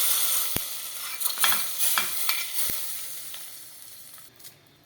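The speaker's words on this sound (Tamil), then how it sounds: "இதை தாளித்து கொட்டிடலாம்." A hot tempering of curry leaves is poured into Andhra-style moong dal rasam and sizzles in a steady, hissing wash that swells with a few sharp crackles, then slowly fades out.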